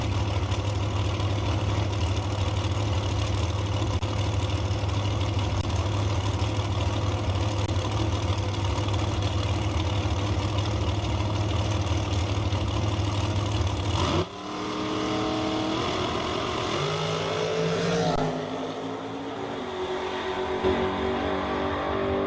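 A Chevy Nova drag racing car and an American dragster idle loudly on a drag strip with a heavy, steady rumble, then the engine note drops sharply and climbs again in rising revs.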